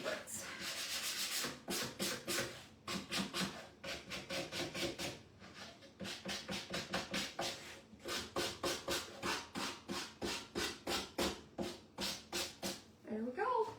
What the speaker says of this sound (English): this is what makes all the difference, is when you just sand lightly on the dark parts